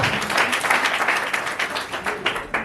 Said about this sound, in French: j'aimerais que vous l'applaudissiez très fort.